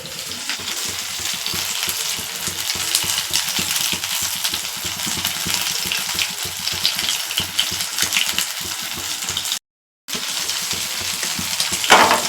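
Marinated fish fries in a pan at home with a continuous close, loud sizzle and crackle that barely changes, broken by one short silent gap near the end, and no talking.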